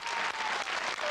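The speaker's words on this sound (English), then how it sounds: "I don't know what you're cheering about." A television studio audience applauds and cheers, a dense, steady wash of clapping that is loud and sustained throughout.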